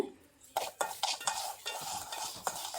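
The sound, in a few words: parboiled rice being dry-roasted and stirred in a pan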